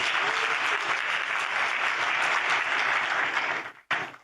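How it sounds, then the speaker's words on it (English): A church congregation claps together in steady, dense applause, loud and close, continuing for several seconds before breaking off abruptly near the end. "Clap for Jesus."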